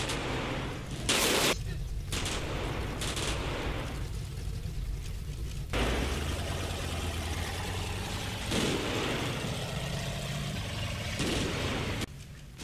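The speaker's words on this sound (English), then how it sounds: "HMGs provide suppressing fire." Heavy machine guns laying down suppressing fire in the war game Combat Mission: dense, sustained bursts of gunfire with a few sharper cracks and distant rumbling, loud and continuous, no talking.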